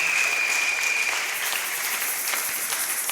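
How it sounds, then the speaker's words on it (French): A church congregation applauds and cheers the Lord after a prayer, dense sustained clapping filling the room throughout, a brief whistle or shout near the start. "On peut acclamer encore très fort le Seigneur"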